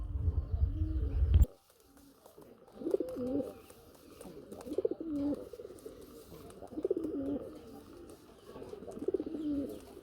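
Golla pigeons in a cage coo in soft, repeated rolling calls close by, following a brief loud thump at the start, with faint background noise between the coos.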